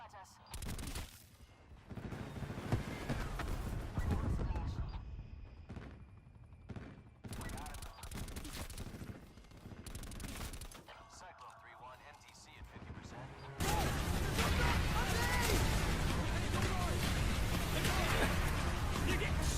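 Gunfire rattles through a shooter video game in repeated bursts, quieter and more scattered early, then a dense, loud, continuous barrage near the end, with voices talking over parts of it.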